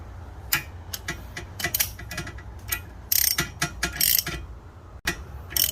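A ratchet tightens the plastic oil filter housing on a Ford Explorer ST, clicking rapidly in short uneven bursts close to the listener, with a few louder strokes partway through.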